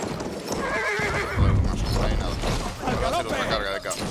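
A cavalry horse in the game Battlefield 1 neighs and gallops with rapid hoofbeats, close and loud, while someone talks over it.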